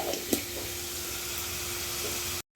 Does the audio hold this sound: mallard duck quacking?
no